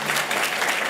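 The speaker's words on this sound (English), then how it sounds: "please give them a round of applause." Board meeting audience applauds a high school JROTC color guard in a brief, steady wash of dense clapping.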